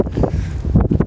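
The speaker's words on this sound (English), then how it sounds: "it brought some wind, which is why I'm dressed like I am today, because the wind is bad" Strong wind gusting near a building in Antarctica, with gusts around 38 mph; a loud, rough roar buffets the microphone close up for about a second, and no voice is heard.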